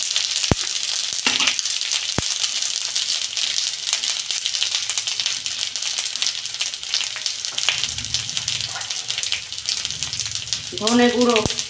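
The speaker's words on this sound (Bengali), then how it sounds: "মশলাটা আমি একটু ভালো করে কষতে নেব।" Masala with tomato and salt fries in a pan with a steady, loud sizzle throughout, a few sharp clinks and a brief burst of stirring near the end.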